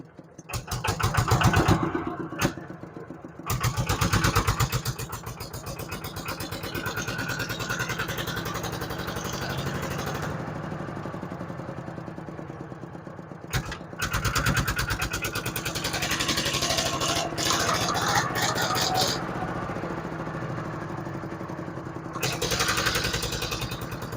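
An ET 110 engine on a Thai rot e-taen farm vehicle in good condition runs steadily, a close mid-pitched chugging drone with a few revving surges and brief cut-outs, and someone talks faintly now and then.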